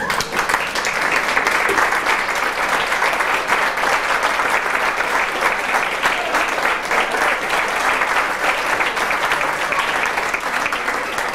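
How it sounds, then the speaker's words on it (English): A banquet crowd gives senior athletes a big round of applause, sustained dense clapping from many hands at an even, loud level throughout. "I think you deserve a big round of"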